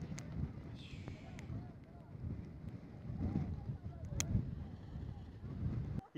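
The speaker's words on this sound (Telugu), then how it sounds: "గాలి కూడా చాలా ఎక్కువ వచ్చింది, గాలి తోసేస్తుంది దెబ్బకి జనాల్ని" Strong wind gusts across the Brahmagiri hills, a low rumbling roar buffeting the microphone in uneven surges, loud and close throughout.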